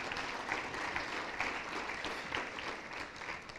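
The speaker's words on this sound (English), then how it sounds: "Let's have a round of applause, ladies and gentlemen" Steady applause from an awards banquet audience, a dense wash of many hands clapping at moderate volume throughout, with no voices standing out.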